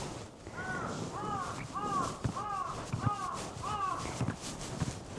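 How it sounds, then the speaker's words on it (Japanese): A crow caws outdoors at a shrine on Iki Island, six hoarse calls in a steady series at moderate distance, over wind and faint background sounds. "カラスさんが鳴いてます。"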